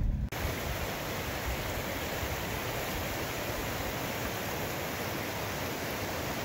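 Henson Creek on Engineer Pass, a creek big enough to pass for a river, pours in a loud, unbroken rushing roar that fills the whole stretch, close by and steady, with no voices.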